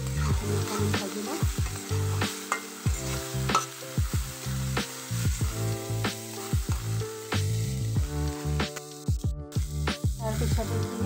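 Taro leaves frying in a pan with salt and turmeric, giving a lively crackling sizzle with stirring scrapes and clatter throughout, fairly close and steady with occasional sharper pops.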